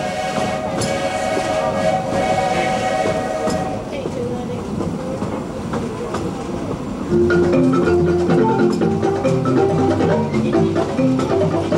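A Walt Disney World Railroad train rolls steadily along the rails with a continuous rumble and clatter. A sustained musical or whistle-like tone is heard early, and a denser tonal layer joins partway through.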